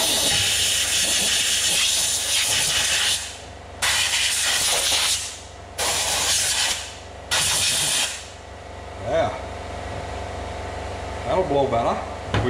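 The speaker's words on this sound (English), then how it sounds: "I'm going to get some air and blow this out." Compressed air blasts clean out a greenhouse electrical panel, loud hissing bursts of a few seconds each, repeated with short gaps, followed by quieter handling noise.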